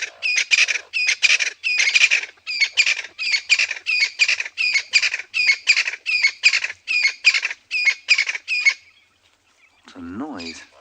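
Francolin calling at sunrise on a safari: a loud, close run of about fifteen harsh, rhythmic squawking bursts repeated steadily, then a pause and a brief different rising call at the end.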